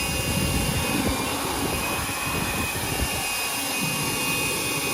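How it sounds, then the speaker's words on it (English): A leaf blower roars steadily at close range while drying an XFoil board, its continuous broadband whoosh holding constant for the whole stretch. "Leaf blower is great because you can get all the little crevices."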